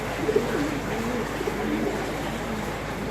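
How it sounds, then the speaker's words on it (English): Pigeons cooing in low soft bursts near a canal lock on a calm morning, steady background murmur underneath, the coos faint and intermittent without any talk. "Pigeons,"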